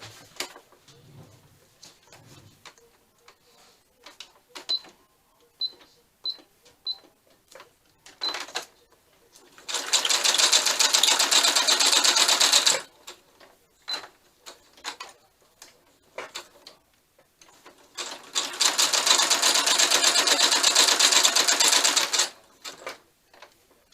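A sewing machine stitches a pocket onto a paper journal card in two loud, sustained bursts of rapid chattering. Scattered clicks and small handling taps fill the quieter gaps between the runs.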